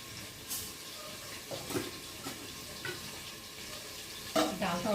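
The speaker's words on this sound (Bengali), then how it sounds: "আর এই যে পটলটা ভাজা করবো।" Pointed gourd (potol) frying in a pan gives a steady low sizzle with scattered stirring clinks and scrapes, growing busier near the end, with no talking.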